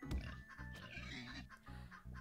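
Game-style chicken clucks and squawks repeat in quick bursts over a busy, music-like backdrop, fairly close and moderately loud.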